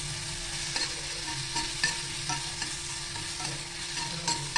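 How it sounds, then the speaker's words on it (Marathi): Ginger-chili paste fries in hot oil for a roll samosa filling, a constant close sizzle broken by several sharp stirring scrapes and clicks of a spoon against the pan, with no voices. "तेल तापलं की त्यात आपण टाकणार आहोत आलं मिरचीचा ठेसा"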